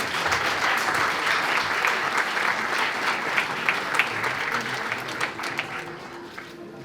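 Audience at a university graduation ceremony gives a big round of applause for a newly graduated doctor, sustained dense clapping with a few sharper individual claps standing out as it slowly tapers.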